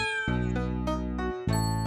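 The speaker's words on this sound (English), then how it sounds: "Mary, looks like your cats wanted to ride in my fire engine." Cats meow in a children's nursery-rhyme setting near a fire engine. Two or three drawn-out, tuneful meows sound close and clear over a sustained musical backing, with no talking.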